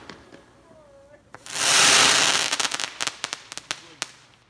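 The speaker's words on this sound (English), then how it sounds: "Shooting fireworks forever." Canada Day fireworks burst in a loud, sustained roar of explosions, followed by a rapid string of sharp crackling pops that fade out. A voice is briefly heard early on.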